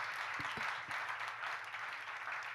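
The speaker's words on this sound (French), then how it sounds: "je pense qu'on peut les applaudir" An audience applauds women sea adventurers at an exploration talk, steady dense clapping throughout with a few low voiced bursts near the start.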